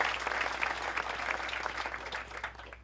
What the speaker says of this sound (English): let's give him an applause anyway, all right?